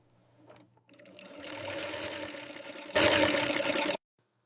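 A sewing machine stitches a giraffe leather garment, its motor whirring steadily for about three seconds and then surging louder in a final burst before cutting off abruptly.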